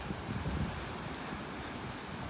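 Steady surf of ocean waves at a beach in North Naples, Florida, a broad continuous wash with low rumble and wind noise across the microphone, no voices.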